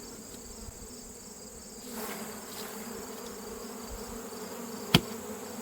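A swarm of honey bees, absconded and being recovered around a queen cage beneath a tree, keeps up a steady, moderately loud buzzing drone, with one sharp knock near the end.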